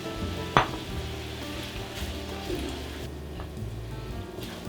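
Vegetable broth hits browning onions in a hot pan, giving a sharp splash-sizzle early on before settling into a steady crackling fry with occasional stirring clinks, heard close and fairly quiet.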